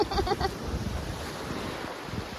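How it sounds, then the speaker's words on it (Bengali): Strong sea waves breaking on a beach, with a continuous rushing surf wash and buffeting wind noise. A brief burst of tonal chirping sounds near the start. "অনেক জোরে জোরে ঢেউ আসছে এখন"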